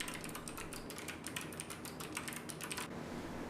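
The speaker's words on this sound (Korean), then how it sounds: "확인을 위해 방수 키보드를 물속에 넣어 타이핑을 시도해봤습니다." Rapid, continuous clicking keystrokes on a waterproof computer keyboard that has been submerged in water, steady and close.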